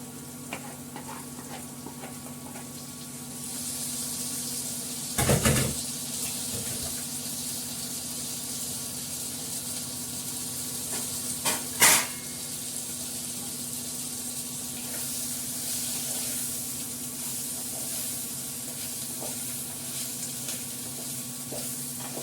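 Water added to a spice paste frying with ginger paste in a pan, a steady hissing sizzle with stirring scrapes, marked by two brief louder bursts of spitting as liquid hits the hot oil.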